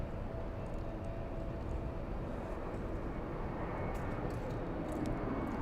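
A Frontier Airbus A319 arriving at LAX: steady broadband jet roar at moderate distance, continuous and even throughout with no voices.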